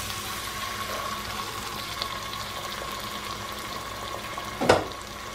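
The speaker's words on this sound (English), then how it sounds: "Now I'm going to start pouring in my cans of tomato sauce." Canned tomato sauce from 15-ounce cans pours into a crockpot in a home kitchen, giving a steady, soft liquid rush with a brief, louder clunk near the end and no talking.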